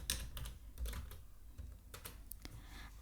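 Quiet, close typing on a computer keyboard while writing Python code, with irregular clusters of light key clicks and taps spread over a few seconds, no voice.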